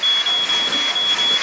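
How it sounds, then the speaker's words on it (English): Inside a house, a fire alarm sounds loudly and close by, a piercing high electronic tone pulsing in rapid, nearly continuous bursts with no talking. "Honey, that's the fire alarm."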